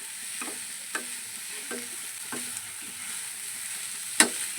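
Soybean chunks are sautéed in a pan with a soft steady sizzle and a hiss, broken by evenly spaced scraping stirs about every second and a sharper clack near the end; no voices.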